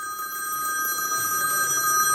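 A telephone bell rings steadily and fairly loudly, a continuous bright trilling ring with no voices over it.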